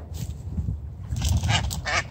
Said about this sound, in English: Ducks returning.